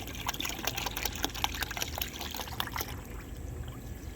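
Distilled water pours and trickles steadily into the coolant system of an 86 car, a continuous close splashing flow with no one speaking.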